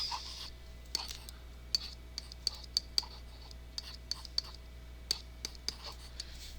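A pen drawing a number line on paper, faint scratchy strokes and light clicks scattered irregularly under a steady low hum, no talk.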